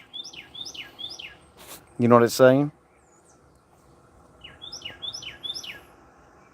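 Small bird calls nearby in short, quick chirping phrases, heard in two bursts with someone talking briefly between them.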